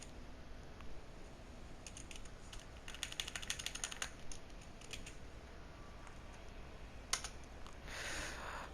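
Quiet, rapid clicking of computer keyboard keys in bursts, busiest in the middle, then a sharper click and a soft rustle near the end, close and faint with no talking.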